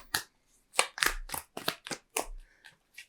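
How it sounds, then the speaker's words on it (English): Tarot cards being shuffled by hand at a table, a series of quick riffling and slapping bursts in an uneven rhythm, close and crisp, with no voices. "let's shuffle the cards"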